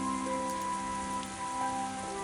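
Steady pouring rain falls on the stone castle of the crown in the King's Quest game, a dense, even hiss of drops heard close and continuous with no break.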